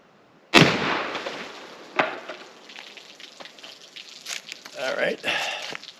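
A .44 Magnum round fired from a Marlin 1894 lever-action rifle gives one sharp, loud close report, followed by lighter clattering and a short voice.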